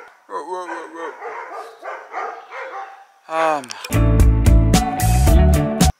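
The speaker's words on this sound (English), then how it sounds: "There are just dogs barking." Several dogs bark in loud, rapid bursts near the end, following a stretch of quieter yips and whimpers at a distance, at a tiny house in South Africa.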